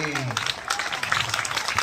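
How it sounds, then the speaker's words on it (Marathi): An audience at a rakhi-making competition bursts into brief clapping right after a voice speaks, a short burst of scattered applause at moderate distance. "चला एकदा जोरदार टाळ्या होऊ द्या."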